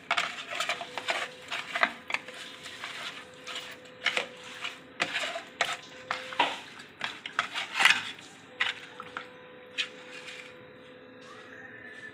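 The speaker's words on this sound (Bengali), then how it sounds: "কড়াই বসিয়ে দিয়েছি।" A metal kadai is set on the stove in a home kitchen while a Bengali fish curry is prepared, with scattered clinks, knocks and cookware clatter over a faint steady hum.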